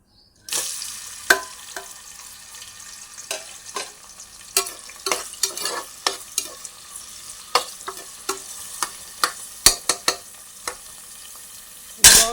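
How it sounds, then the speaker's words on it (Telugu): Onions fry in hot oil for palak mutton curry, a steady hiss that starts abruptly and is broken by repeated sharp scraping stirs and crackles. "ఆయిల్ వేసుకున్నాక తర్వాత ఆనియన్స్ వేద్దామండి."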